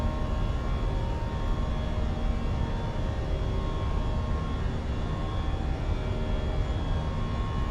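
A Fenix A320 airliner in a flight simulator game departing Wellington, heard as a loud, steady roar of engines and rushing wind with faint tonal whine, constant throughout with no talking.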